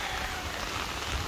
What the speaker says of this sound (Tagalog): malakas ang ulan